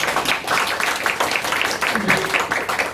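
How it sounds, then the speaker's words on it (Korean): An audience claps after a lecture on the post-COVID world economy and investment strategy at a Korean business concert. The clapping is dense, steady and fairly loud for about three seconds, with murmuring voices mixed in. "다시 한번 수고해주신 이영원 이사님께 다시 한번 박수 부탁드립니다"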